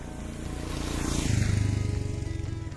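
A Royal Enfield Himalayan adventure motorcycle riding on an unpaved road: a steady, throbbing single-cylinder engine drone that swells slightly mid-way, with rushing wind and road noise around it.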